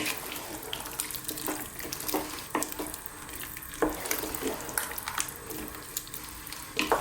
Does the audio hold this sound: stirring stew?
yes